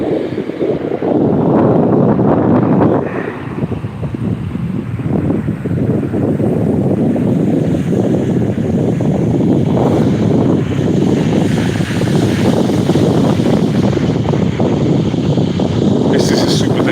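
Tidal waves roll in and break around an island on a very large tidal range, heard as a loud, constant roar under heavy wind buffeting on the microphone.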